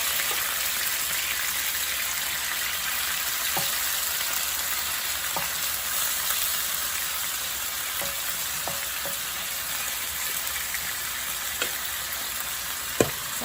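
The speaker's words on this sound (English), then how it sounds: "then put in your meat, your pork. I'm gonna cook it on a medium heat." Pork frying in a pan over medium heat, a steady broad sizzle holding evenly throughout with occasional soft pops and clicks, close and alone without talk.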